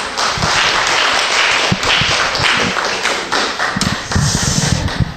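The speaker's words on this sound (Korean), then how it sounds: "목사님 모실 때 큰 박수 부탁드립니다" A church camp congregation gives warm applause to welcome a pastor, a dense wash of clapping with a few louder individual claps and knocks standing out near the microphone.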